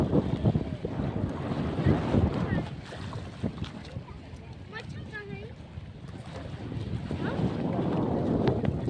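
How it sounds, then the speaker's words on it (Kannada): Waves lap against the stone steps of Madhugiri lake near Tumkur, with soft splashing washes under gusty wind rumble on the microphone and faint bits of voice in the background. "ಅಲೆಗಳ ಸಪ್ಪಳ ನೋಡಿ"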